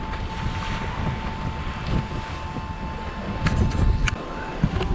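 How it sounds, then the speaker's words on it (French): Steady wind of about 14 knots roars across the microphone on a boat on the Indian Ocean, with a constant broadband rush and low rumble throughout; occasional clicks and brief voices are faint. "Il n'y a que 14 nœuds de vent, hein."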